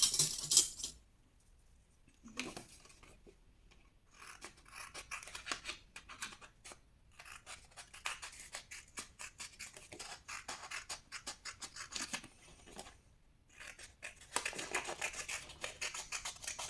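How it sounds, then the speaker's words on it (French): Scissors snip through scrapbooking paper along a traced pencil line for an advent calendar craft, a close run of crisp, quiet cutting sounds with brief pauses between strokes and no talking. "ensuite je vais couper, voilà, selon le traçage que je viens de faire"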